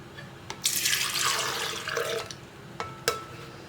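Cold milk, 250 ml measured out for a homemade cake cream, pours in a short splashing stream that stops after about two seconds, followed by a few faint clinks.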